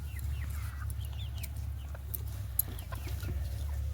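Native hens that are laying eggs give scattered soft clucks and short calls over a steady low hum, fairly close but not loud, with no one talking.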